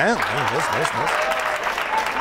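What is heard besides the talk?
studio audience applause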